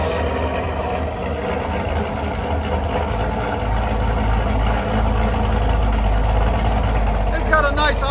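A 2009 Pontiac G8 with a cammed 6.0L V8, long tube headers and straight pipe dual exhaust idles steadily with a deep, loping low rumble throughout, close up and loud, with people talking over it.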